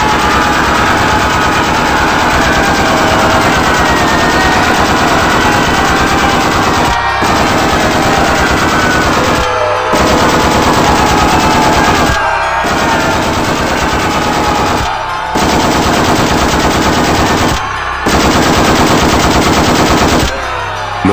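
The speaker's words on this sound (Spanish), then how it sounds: "el estruendo de los disparos y las explosiones sacudían los cimientos de la prisión" Loud, sustained automatic gunfire with heavy booming blasts, rattling on continuously with a few brief gaps, no speech.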